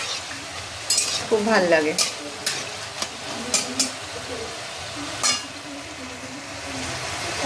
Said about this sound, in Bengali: ময়দার পিসগুলোকে দিয়ে দিয়েছি, এবার ভালো করে লাল করে ভেজে নেব।